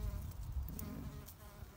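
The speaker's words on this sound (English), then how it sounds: "There's a bee on there." A bee buzzes faintly around geranium flowers on a garden allotment, a soft continuous drone under low outdoor background rumble.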